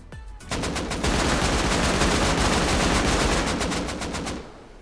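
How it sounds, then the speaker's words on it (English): Sustained automatic gunfire in the survival video game Rust, a dense, loud rapid burst of shots running almost continuously for several seconds after a brief opening, with no talk over it. "They missed all their shots. You walked between every bullet they had."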